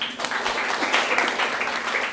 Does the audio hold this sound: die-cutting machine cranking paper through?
no